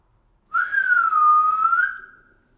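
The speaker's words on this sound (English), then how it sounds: "I did hear a whistle." A single sustained whistle, a clear steady tone that wavers slightly in pitch, lasting about two seconds and fading out, heard alone in a quiet setting.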